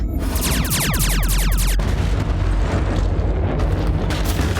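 Sci-fi spaceship weapon fire hitting its target in a cloud, heard as a loud roaring blast with descending whooshing sweeps, then a sustained rumbling explosion wash filling the scene.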